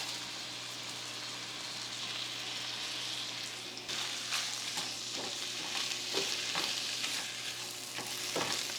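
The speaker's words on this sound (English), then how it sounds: "So just let your rice toast for a minute or two" Rice toasting in sausage oil in a pan gives a steady, dense sizzle, joined midway by scraping stir strokes and light clicks, close and even with no voices.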